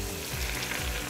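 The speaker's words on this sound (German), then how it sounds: "Zum Anbraten habe ich etwas Öl in den Topf gegeben und dann gebe ich die ersten" Savoy cabbage rolls sizzle and fry in oil in a pot, a steady, dense crackle at moderate volume with low bumps from the rolls being placed or stirred, and no talk.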